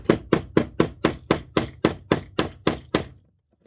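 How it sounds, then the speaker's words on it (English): Eleven evenly spaced gentle hammer taps straightening a bent metal part of a Hornby Thomas model train, each a short sharp knock fading quickly, in a steady rhythm before silence. "I'll just gently tap it with the hammer"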